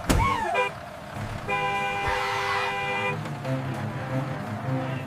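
A bus horn gives a loud, sustained honk lasting over a second, heard close over a low running engine, followed by quieter vehicle rumble.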